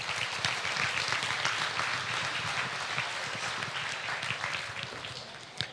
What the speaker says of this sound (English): if we could have a big round of applause for those three individuals